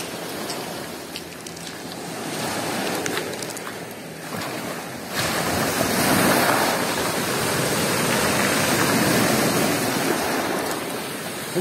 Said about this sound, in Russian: Ребята, смотри, какие волны красивые.